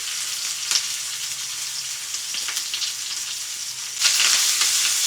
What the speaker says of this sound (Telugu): ఇప్పుడు ఆనియన్ వేసేస్తాను, పచ్చిమిర్చి కూడా వేసేస్తాను, కరివేపాకు ఇలా తుంచి వేయండి